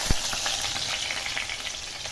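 Finely chopped garlic sizzles and crackles steadily in hot oil in a pan, the first step of a spicy pasta, with a few soft stirring clicks and no voices.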